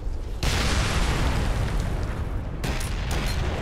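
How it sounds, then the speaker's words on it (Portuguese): Grenade explosion during an airsoft match at Chertanovo: a sudden loud broadband blast that swells and rumbles for about two seconds, followed by a second burst of noise, close and forceful. "Granada, granada."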